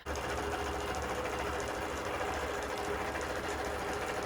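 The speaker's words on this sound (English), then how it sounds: "I have everything set up and this is being quilted now." Long arm quilting machine stitching a whole cloth minky quilt, a steady, even mechanical whirr running continuously at low volume with a faint rhythmic needle clatter, no voices.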